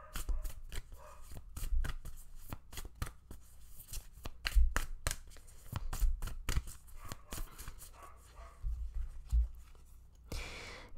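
Oracle cards being shuffled by hand, a dense run of crisp riffling snaps and flutters that keeps going for about ten seconds, close and fairly loud with no talking.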